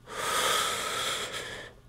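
A slow, deep inhale lasting nearly two seconds, breathy and close, swelling early and then tapering as it ends.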